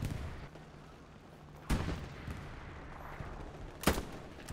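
Gunfire from an enemy holed up in a building in the game Hell Let Loose, two sharp, loud reports a couple of seconds apart over a low rumbling battlefield background.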